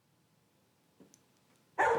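A single dog bark bursts out loud and close near the end, after a quiet stretch with a faint brief sound in the middle.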